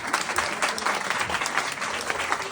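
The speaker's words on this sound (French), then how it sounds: "merci Thomas, on les applaudit bien fort" Audience applause at a stand-up comedy show in Lyon: dense, steady clapping from a room full of people, fairly even and sustained for the whole stretch with no talking over it.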